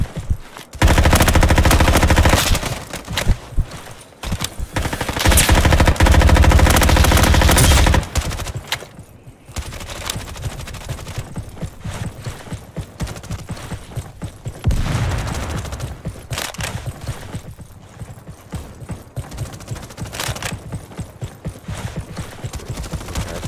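Heavy, rapid gunfire from a gun in the Roblox shooter Frontlines rattles loudly and nearly continuously for several seconds, then thins into scattered shots and quieter battle noise.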